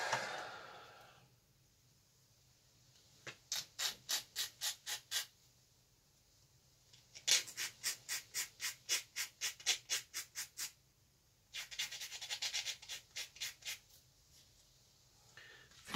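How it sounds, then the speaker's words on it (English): Short bursts of quick back-and-forth rasping from a sanding stick worked over a plastic part of a Tamiya 1/48 scale Dingo Mk.II model kit, three runs of rapid strokes separated by quiet pauses, close and fairly soft. "few swipes with the sanding stick"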